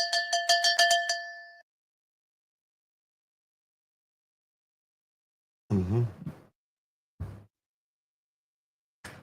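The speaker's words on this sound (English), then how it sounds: "Would you mind making the bell sound lower?" A bell chime on a live stream rings out in a quick run of bright, ringing strikes at the start, followed by silence and a few short, faint vocal sounds.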